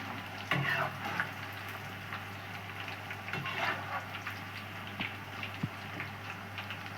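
Sliced banana wafers fry in hot oil on a gas stove, giving a steady close sizzle and bubbling with scattered faint ticks and light stirring clatters, and no talk.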